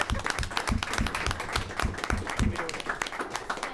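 An audience at a school committee meeting breaks into steady applause, many hands clapping close together in a dense patter that holds at even loudness throughout.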